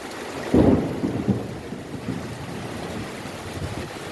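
Steady heavy rain with a dull, close thunder rumble early on that fades back into the downpour.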